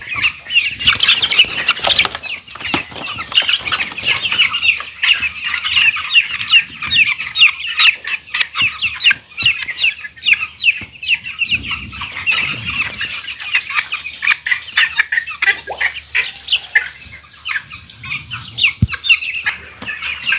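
A dense, loud chorus of many broiler chickens clucking and chattering at once in intense heat, panting, unbroken throughout, with occasional rustling and flapping.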